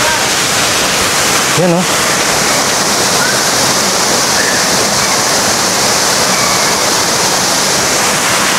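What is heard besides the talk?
Balagbag Falls waterfall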